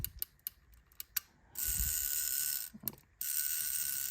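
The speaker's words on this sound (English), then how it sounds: "throw that self-timer on" A Contax II camera's self-timer mechanism whirs, starting with a few sharp clicks and then buzzing steadily for about a second, pausing with more clicks, and resuming its close, continuous mechanical buzz.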